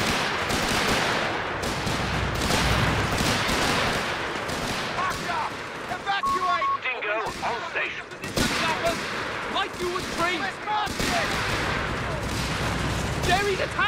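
Bursts of SMG and machine gun fire in a Company of Heroes 3 battle, rapid rattling volleys and booms throughout, with players talking over the chaotic gunfight.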